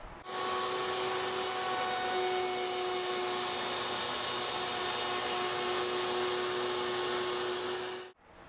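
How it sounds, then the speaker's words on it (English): Table router spinning up and cutting the veneer on an electric guitar headstock: a loud, steady high-pitched whine with a constant hum that holds for about eight seconds and then cuts off abruptly. "I've already set the depth on my table router, so let's just crank this up and get this done."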